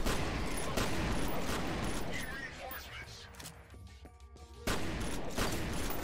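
Gunfire in the video game Call of Duty Black Ops Zombies: rapid bursts of shots with mechanical clatter, loud at the start and end and thinning out in the middle, with a voice talking briefly over them.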